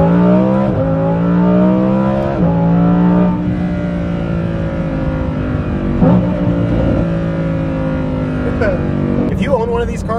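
A Lamborghini Huracan Performante with an Inconel exhaust in Corsa mode drones and revs loudly and steadily, its pitch climbing through gear changes with sharp shift breaks, close and continuous throughout.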